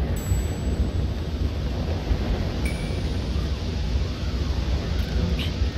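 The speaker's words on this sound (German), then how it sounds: "Oh, dieser Wind!" Wind gusting across the landscape in the Switch game Zelda Breath of the Wild, a steady full-bodied whooshing rush that holds for the whole stretch without letting up.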